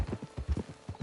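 Brisk hoofbeats from a horse clip-clop in a quick, even rhythm, five or six distinct knocks within a single second, near and clear.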